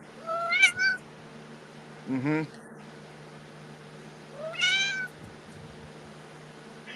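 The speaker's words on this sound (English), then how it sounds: "That is a funny cat sound or something." A cat meows three times over a faint steady hum: a rising two-part meow, a short chirping call, then a longer drawn-out meow, moderately near. A brief murmured voice is heard.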